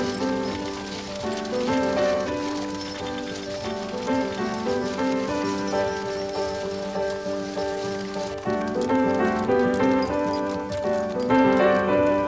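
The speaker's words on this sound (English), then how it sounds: "The smell of pine and horses mingled with the sounds of hoofbeats and the passing breeze." A six-horse stage team climbs the Mt Washington Auto Road, its hoofbeats clopping steadily and continuously at moderate distance, mixed with a dense, rhythmic wash of sound throughout.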